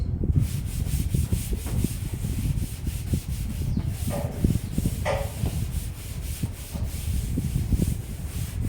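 Rapid, steady scrubbing of an eraser wiping a classroom chalkboard, heard up close with a couple of faint squeaks partway through.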